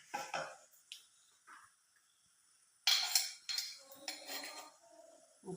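Metal spoon scraping and clinking in a pan while spices for a Kerala-style mackerel curry are stirred, with pepper powder, turmeric and salt; scattered close clinks and scrapes with short pauses.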